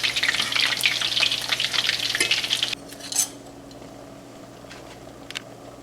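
Meatballs bubble and sizzle in a pan of homemade Italian tomato sauce, loudly and densely for about three seconds. The sound then drops to a quieter simmer with an occasional utensil clink.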